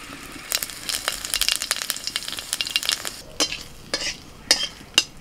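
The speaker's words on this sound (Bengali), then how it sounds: "ফোড়নটা একটু ভেজে নিয়ে" Dry chili and panch phoron fry in oil in a home kitchen, a dense crackling sizzle with utensil clinks that thins out into a few sharp scrapes and taps toward the end.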